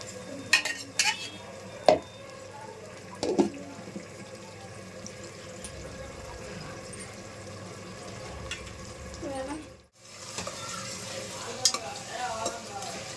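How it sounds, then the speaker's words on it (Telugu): An onion, green chilli and tomato paste fries in oil with a steady low sizzle, broken by occasional sharp clinks and stirring knocks from close by, and a brief quiet gap partway through. "పేస్ట్ అంతా వేసి కొంచెం ఇది పచ్చి వాసన పోయేంత వరకు వేయించుకోవాలండి ఆయిల్లో."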